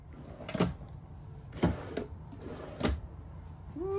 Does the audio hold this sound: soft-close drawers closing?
yes